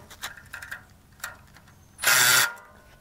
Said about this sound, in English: Start by tightening all the carriage bolts on the bottom of both sides.